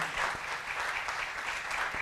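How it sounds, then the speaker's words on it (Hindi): Enthusiastic audience applause for poet Kanchan Priya at a university poetry event, a thick, even roar of clapping hands sustained throughout without voices. "एक बार जोरदार तालियां हो जाए कंचन प्रिया के लिए।"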